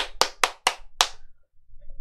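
A single person claps hands five times, sharp and close, in an uneven rhythm with a longer gap before the last clap, followed by near silence.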